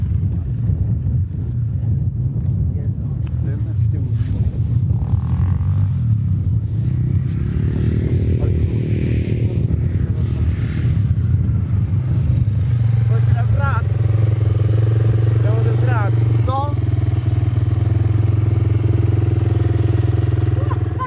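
A quad bike (ATV) engine drones steadily and loudly through the whole stretch, mixed with wind buffeting the microphone and a little clatter, with the pitch rising somewhat toward the end.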